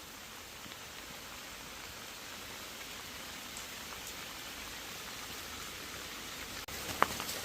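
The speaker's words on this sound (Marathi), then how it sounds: "नेमका आता पाऊस चालू झालेला आहे आणि वातावरण एकदम सुंदर झालेलं आहे" Steady, soft rain falls at a rock-cut cave temple, a faint continuous hiss without any voices and with a small click near the end.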